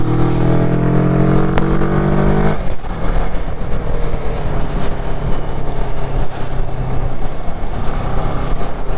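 Several motorcycles ride past close by, loud engines droning steadily with a rising pass-by whine early on, then continuing rumble of more bikes throughout.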